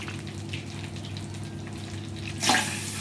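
Water is poured into sugar in a pan to make syrup for sooji halwa prasad: a steady, soft pouring wash under a kitchen hum, swelling into a brighter splash near the end.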